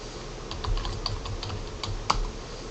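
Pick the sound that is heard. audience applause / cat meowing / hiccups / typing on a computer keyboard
typing on a computer keyboard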